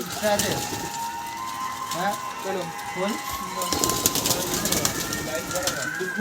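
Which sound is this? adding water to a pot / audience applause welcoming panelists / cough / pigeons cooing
pigeons cooing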